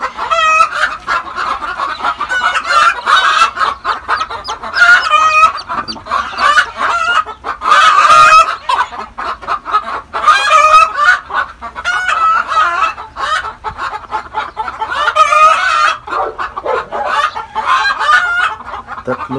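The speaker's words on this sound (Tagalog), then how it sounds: "Dalawang manok sa loob guys." Chickens cluck steadily and busily for a long stretch, overlapping calls close by, with occasional louder squawks and no talking.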